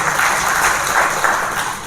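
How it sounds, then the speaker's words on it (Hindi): Applause welcoming a guest at a BJP office gathering in Sirsa, Haryana, a brief steady wash of crowd clapping, loud and continuous throughout. "जोरदार तालियों से उनका अभिनंदन स्वागत"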